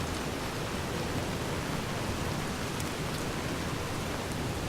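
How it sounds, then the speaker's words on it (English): Steady, even rain hisses without a break at night in Fallout New Vegas, a dense wash of falling water with no voices. "Wait for the rain to stop"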